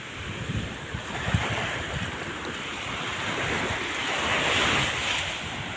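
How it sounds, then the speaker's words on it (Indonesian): Strong ocean waves break and wash steadily on the shore at Pak Lotai beach in Singkawang, a continuous loud surf roar with wind buffeting the microphone and swelling toward the end. "Ya sepertinya agak kuat ombaknya nih."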